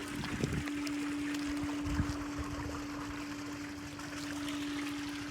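Irrigation water running through a farm plot among papaya trees, a steady trickling flow with a constant low hum, moderately close and without speech.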